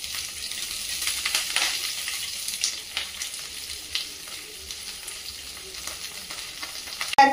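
Fresh curry leaves dry-roasting in a pan for a Maharashtrian chutney, a crackling sizzle that swells early then settles, with light scrapes and a sharp clink at the end.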